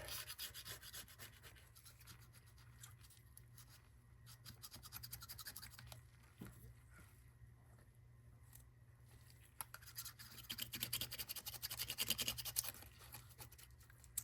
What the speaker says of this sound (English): that's scraped now with the razor blade